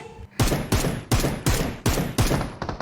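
Shotgun blasts in the mobile shooter Peacekeeper Elite, six loud, evenly spaced booms about a third of a second apart, each with a short decaying tail, followed by a few quicker trailing shots.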